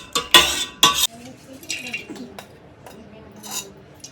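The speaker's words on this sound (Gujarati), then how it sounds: "ઓકે તો બસ ચમચી વડે મિક્સ કરી લેવાનું છે." Two sharp metallic clinks of a spoon against a bowl, then softer swishing and scraping as besan batter is stirred into buttermilk, quieter and irregular toward the end, with no talking.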